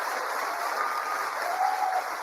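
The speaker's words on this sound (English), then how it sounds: "have some people in there clapping" Sustained applause from people in an audience at a Kamala Harris speech, a steady broadband patter of many hands held at an even level for about two seconds, slightly distant.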